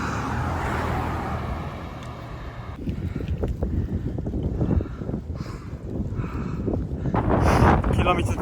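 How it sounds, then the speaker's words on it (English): Strong coastal wind on a bike ride toward Little Dartmouth, roaring and buffeting the microphone in loud, uneven gusts, with bursts of other noise breaking through near the end. "Bloody hell is windy."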